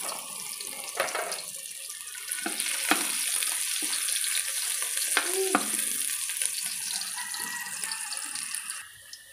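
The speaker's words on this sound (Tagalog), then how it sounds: "Yan, mainit na yung oil. Una nating igigisa ay garlic." Garlic sautéing alone in hot oil in a pan, a steady crackling sizzle with occasional scraping stirs and clinks of a utensil, close and even in level.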